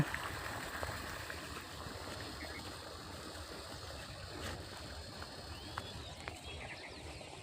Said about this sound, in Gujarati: એડામાં પાણી પણ ચાલી રહ્યું છે.